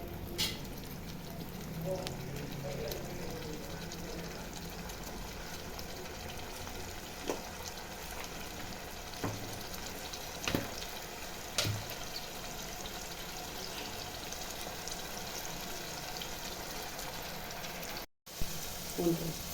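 Onion and tomato sautéing in a pan for egg capsicum gravy, giving a steady close-up sizzle with occasional stirring clicks.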